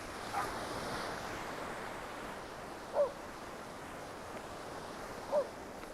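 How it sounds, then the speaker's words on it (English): Ocean waves washing onto Takapuna Beach in Auckland on a changeable spring morning, a steady soft surf wash with light wind noise and two brief louder surges. "the sound of the ocean waves"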